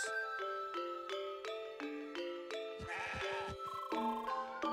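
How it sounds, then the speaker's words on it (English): A goat in the video game CrossCode bleats in short repeated calls over steady, bright tonal game music, fairly soft in the mix. "I have been sent by our leader, Sergeant Brasser, to take this rogue goat into custody."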